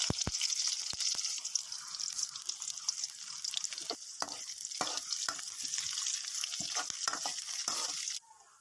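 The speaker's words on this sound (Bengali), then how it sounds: "এর ভিতরে পেঁয়াজ কুচি ও জিরে দিয়ে দেবো" Chopped onion, cumin, dried and green chilies and bay leaf frying in oil, a continuous crackling sizzle punctuated by sharp spatula knocks and scrapes, close and loud until it abruptly drops near the end, no talk.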